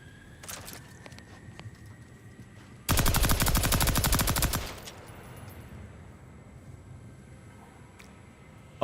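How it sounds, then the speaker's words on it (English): A sawed-off air-cooled machine gun fires in Outer Worlds 2, one loud continuous burst of rapid automatic shots lasting under two seconds, then quieter game ambience. "Sawed off, air-cooled machine gun."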